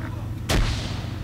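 A grenade explodes in the Arma video game, one sharp loud blast with a short rumbling tail over low background noise.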